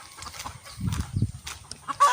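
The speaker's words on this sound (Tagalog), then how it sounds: "Isa yan, isa yan sa mga manok." A chicken clucks nearby in short, soft bursts, with some faint rustling around it and a brief sharper call at the end.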